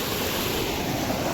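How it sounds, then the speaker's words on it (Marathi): Floodwater from a swollen waterfall on the Godavari river roars as a steady, dense wash of water noise, continuous and fairly loud, with wind buffeting the microphone and no voices. "हा धबधबा पहा तुम्ही"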